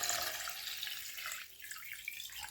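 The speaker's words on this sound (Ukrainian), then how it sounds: "Наливаю воду, до речі," Water runs steadily from a tap into a cooking pot as it fills for a fish broth, a continuous close splashing hiss that dips briefly midway and carries on, with no talking.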